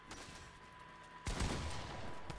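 A drum gun firing in Fortnite, a quiet stretch of faint background shots followed by a sudden loud burst of rapid fire.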